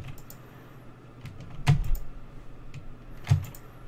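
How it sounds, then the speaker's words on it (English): A computer keyboard clatters with soft ongoing typing, broken by two sharp, close thuds about a second and a half apart; no talking. "Sorry for that thud, it is my keyboard."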